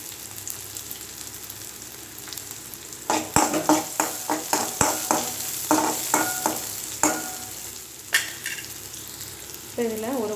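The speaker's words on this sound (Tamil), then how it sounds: "வெங்காயத்தை சேர்த்துட்டு நல்லா கோல்டன் ப்ரௌன்ஸ் ஆகிற வரைக்கும் நல்லா கிறிஸ்பி ஆகிற அளவுக்கு வதக்கிக்கலாங்க." Onions sautéing in hot oil for Kerala-style kadala curry, a steady sizzle under repeated clinks and scrapes of a spoon stirring against the pan, close and fairly loud.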